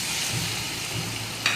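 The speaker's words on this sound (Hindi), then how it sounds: "थोड़ा सा हम इस चिकन को फ्राई करेंगे" Chicken pieces frying in about a cup of hot oil in a pot, a dense, continuous close sizzle with a brief sharper crackle toward the end and no talking.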